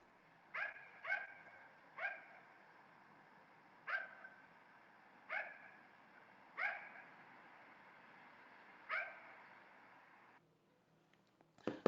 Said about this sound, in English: this was indeed a dog